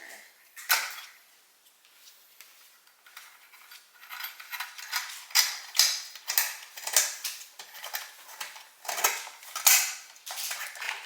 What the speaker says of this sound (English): take your lock ring and thread it onto the back of the projector